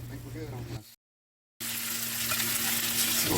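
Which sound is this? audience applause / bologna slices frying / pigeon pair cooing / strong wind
bologna slices frying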